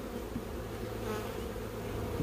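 Honey bees from a package being installed into a hive hum in a dense, steady buzz, close but fairly quiet, continuous for a couple of seconds with no talk.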